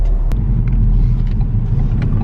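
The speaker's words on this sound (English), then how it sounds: "I'm just going to launch control off here into more traffic." Car with a stock exhaust launching from a stop, giving a loud, steady low engine rumble and road roar with a few faint clicks and no talk.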